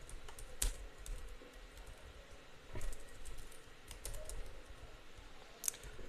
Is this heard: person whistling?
no